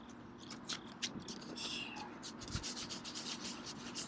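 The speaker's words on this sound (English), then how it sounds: "So I have 200 grit sandpaper. Rough this up. I'm going to rough up the area that you're going to be patching." Rhythmic scratchy strokes of 200 grit sandpaper roughen the PVC surface of an inflatable West Marine dinghy raft before patching, a series of quick close rubbing passes at low level.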